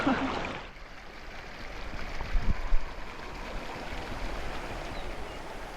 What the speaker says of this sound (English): This river is called the Balili River.